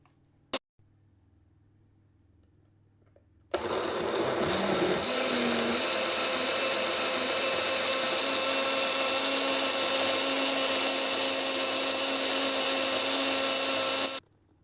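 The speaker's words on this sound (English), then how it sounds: "Now you put the sugar, then you blend it." An electric blender whirs loudly and steadily for about ten seconds, blending seedless orange with sugar, after a brief click and quiet start.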